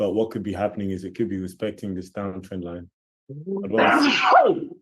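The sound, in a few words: sneeze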